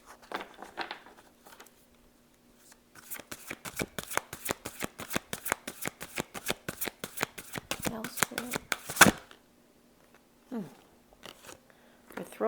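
A deck of cards being shuffled up close, a quick run of riffling flicks followed by a few scattered handling sounds, with a voice speaking briefly around it.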